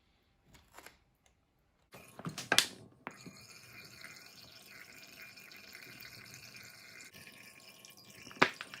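Water trickling and dripping out of a container as it drains from beneath a floating layer of oil, a steady soft flow with a few sharper drips, close by and alone.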